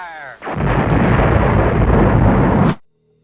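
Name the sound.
cannon or artillery fire sound effect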